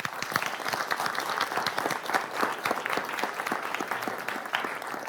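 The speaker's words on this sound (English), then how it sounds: "Let's give them a round of applause." Audience applause during a live National Canadian Film Day broadcast, a continuous, moderately loud roll of many hands clapping with distinct individual claps popping through, steady for about five seconds.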